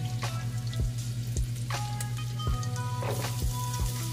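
Onion frying in rendered fat in a pan, a steady low sizzle with scattered pops and crackles, quiet and close, with no voices.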